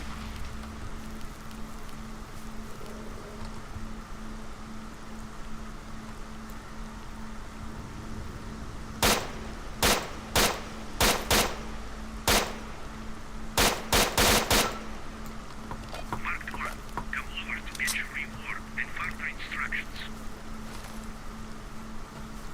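Gunfire in STALKER: Shadow of Chernobyl, a rapid string of about a dozen loud, sharp shots in quick bursts over a steady ambient hum, followed by faint chirping.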